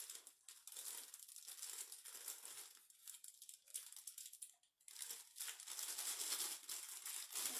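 A brownie mix packet is cut open with scissors and emptied, producing faint, close crinkling and rustling of the packet that comes in irregular bursts.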